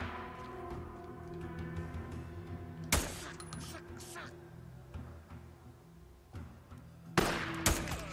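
Gunshots in the zombie survival video game Days Gone, two sharp loud bursts standing out over a steady game soundscape, with talk in the background.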